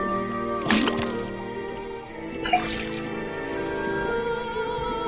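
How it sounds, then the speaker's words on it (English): Water drips from a faucet in the Detective Grimoire adventure game, a couple of distinct wet drip plinks standing out over a steady musical game background, with no talking. "First thing we do, then tap the faucet."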